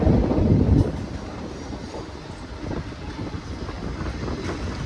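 An ICF passenger coach of the Puri-Tirupati Express runs along the track at speed, a loud rushing rumble at first, then a steadier clattering roll with wind buffeting, no speech.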